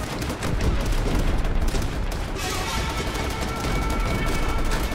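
Dense, chaotic gunfire roars through a Call of Duty: World at War battle, with continuous rapid rifle and machine-gun bursts layered with booming impacts, loud and close.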